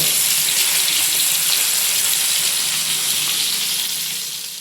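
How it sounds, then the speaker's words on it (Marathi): Mackerel (bangda) and pomfret fry together in a pan, coated in homemade Konkan-style masala; a loud, close, continuous hissing sizzle holds steady and eases slightly toward the end. "आता बांगडा पण फ्राय होतोय आणि पापलेट पण दोन्ही एकसाथ"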